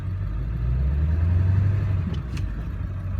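A 2002 Ford F250 diesel truck idles with a low, steady rumble that swells briefly as it is shifted into drive, followed by a couple of faint clicks.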